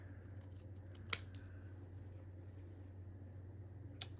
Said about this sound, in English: I'm going to cut those off